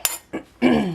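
A fork scraping and clinking against a cast iron skillet while sliding around eggs, three short metallic strokes, close and fairly loud, the last one longer and grinding.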